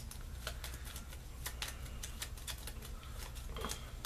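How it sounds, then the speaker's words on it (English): A deck of Flip City board game cards is shuffled at a table, quiet rapid riffling and patter with soft clicking bursts, close and faint, no talking. "I'm going to shuffle my deck."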